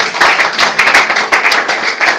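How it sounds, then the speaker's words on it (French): A church congregation at a French-language worship service claps for the Lord in a steady, rhythmic beat, sharp, close and loud, with no talking over it. "Acclamez pour le Seigneur."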